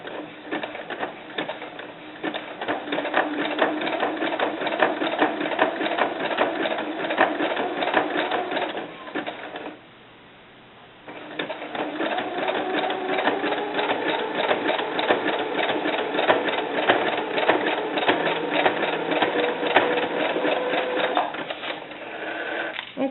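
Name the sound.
sewing machine stitching a doll bra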